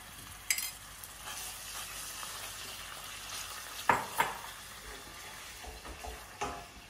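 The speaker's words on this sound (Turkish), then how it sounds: "Şöyle soğanı, bir tane soğanı kavurdum. Biber salçasından da katayım." Onion fried with pepper paste in a pan makes a faint, steady sizzle, broken by a few sharp spoon scrapes and taps against the pan, with no talking.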